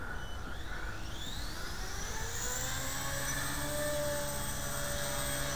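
A small HK250 RC helicopter flies outdoors on a breezy morning, its rotor and motor making a steady whirring drone with rising and falling pitch that holds for several seconds without talk.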